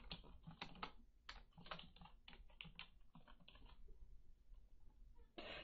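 Steady bursts of computer keyboard typing, quick irregular key clicks close by, with short pauses and a final burst at the end, while a student's name goes into an APA title page.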